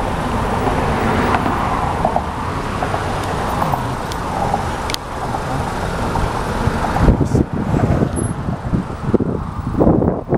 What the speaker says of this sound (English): It's one way, intentional form of traffic jam.